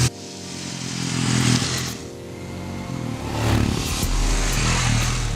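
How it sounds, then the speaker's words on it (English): A Royal Enfield Himalayan motorcycle on the Chennai racetrack, its engine loud and close, swelling as it accelerates and easing back, then rising again with a steady rumbling drone. "while testing the Himalayan on the Chennai racetrack"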